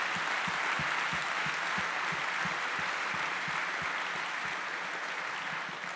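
Sustained round of applause from an evening lecture audience honoring a historian, dense and even clapping filling the hall at steady loudness, with a regular low thumping pulse underneath and no talk over it.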